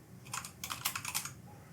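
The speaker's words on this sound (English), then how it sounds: "Just type it in here." Quick bursts of typing on a computer keyboard, light rapid key clicks in two short runs, close and alone against a faint background hiss.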